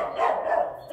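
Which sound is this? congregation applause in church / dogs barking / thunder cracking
dogs barking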